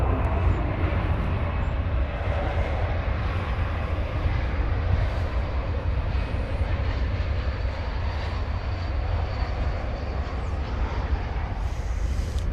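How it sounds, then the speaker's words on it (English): An American Airlines Airbus A321 arriving from San Diego produces a steady, broad jet engine roar that holds at an even level throughout, heard alone at moderate distance with no voices. "American Flight 1055 from San Diego, Airbus A321 is our next contestant."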